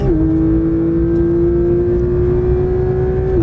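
Porsche 911 GT3 accelerating hard on a track, a loud, close engine note that rises sharply then holds a high, steady wail, no talk.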